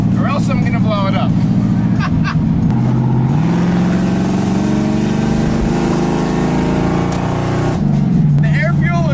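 A carbureted engine that runs slightly lean at high RPM climbs from a rumbling idle into a sustained high rev, then drops back, with a voice heard before and after.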